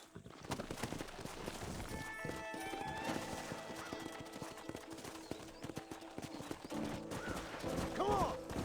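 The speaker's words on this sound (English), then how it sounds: "Horses are over here." Horses in the Western video game Red Dead Redemption, with clip-clop hooves and a whinny near the end over a busy in-game mix of music and ambience.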